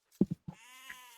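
Sheep in a strategy video game give a couple of short bleats, then a longer wavering bleat. The calls are clear and isolated against silence.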